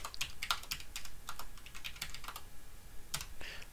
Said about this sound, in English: So we'll type in smb:// and the IP address.